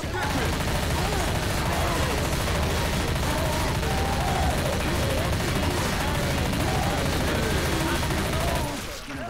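Dense, sustained gunfire from Left 4 Dead 2 using incendiary fire bullets, a continuous loud barrage of shots with a shotgun in the mix, filling the whole stretch before cutting off near the end.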